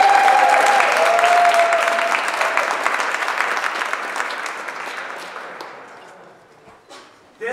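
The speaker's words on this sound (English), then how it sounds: "Let's give her a round of applause." An audience applauds a speaker at a New York press conference, with steady, dense clapping that fades away toward the end. A brief sound at the very end may be a voice.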